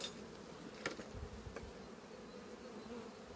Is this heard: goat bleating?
no